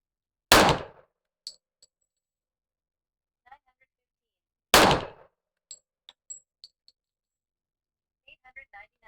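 Two sharp, loud pistol shots from an M&P 40 firing Remington UMC ammunition, spaced about four seconds apart, each followed by faint metallic clinks and small clatter.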